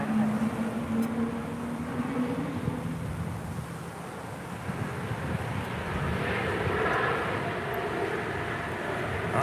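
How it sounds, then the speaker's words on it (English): A Qantas Airbus A380 airliner at LAX, its steady distant jet rumble heard alone with a faint engine tone early on and a slight rise in loudness toward the end, mixed with some wind noise. "the Qantas A380 now cleared to head on over to 7 right"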